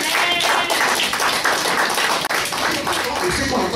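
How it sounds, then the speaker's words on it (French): A congregation claps during a Sunday church service, a dense burst of hand clapping heard fairly close, continuous for several seconds, with voices mixed in. "Applaudissez si vous aimez ça."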